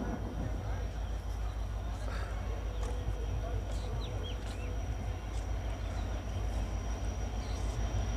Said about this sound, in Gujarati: તો અત્યારે આવી ગઈ છે ભાવનગર ટ્રેન